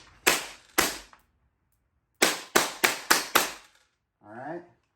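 Airsoft gun shots hit U84 fabric armor up close: two sharp cracks, a pause, then a quick burst of five evenly spaced impacts, followed by a brief voice.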